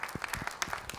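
An audience applauds at a film club screening and discussion, with scattered hand claps forming a brief, moderately loud burst.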